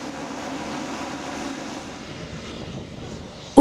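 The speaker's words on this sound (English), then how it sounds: "We can see chartered airplanes in the yard." Chartered light aircraft at an airfield in Tanzania give off a steady, moderately loud engine drone throughout, ending with an abrupt loud knock.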